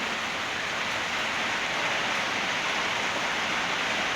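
Heavy rain pouring down outdoors, a dense, unbroken hiss of falling water at steady loudness with no voices.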